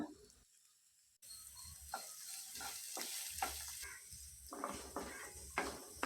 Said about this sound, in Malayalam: സവാള ഇതുപോലെ നന്നായിട്ട് വഴണ്ട് കുഴഞ്ഞു വരുന്ന ഈ ഒരു പരുവം എത്തുന്നത് വരെ മാത്രം വഴറ്റുക